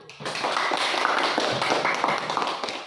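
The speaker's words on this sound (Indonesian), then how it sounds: "tepuk tangan untuk kelompok 1" A classroom applauds a group's presentation: a burst of scattered clapping from a small crowd, continuous and fairly close, lasting a few seconds after a brief quiet start.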